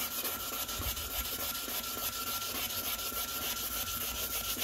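Waterproof sandpaper scrubs limescale off a toilet, making a steady, close, gritty rubbing that continues unbroken at moderate volume, with no voices.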